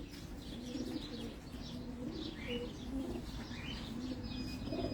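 Pigeons coo softly on a rooftop in Abu Dhabi, with repeated low throaty coos and faint chirps over a steady outdoor background hum, no voices.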